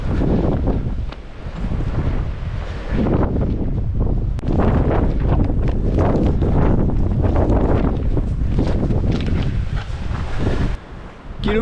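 Strong gusting wind buffets the microphone during a 41 km trail running race at Mirmande, a loud, continuous roar rising and falling with the gusts, with no other sounds.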